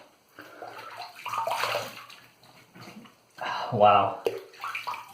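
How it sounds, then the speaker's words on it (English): Running tap water splashing over a shaving razor during a rinse, close and moderately loud in two bursts, with a brief exclamation spoken over it. "Let me rinse up and go for a third cleanup pass."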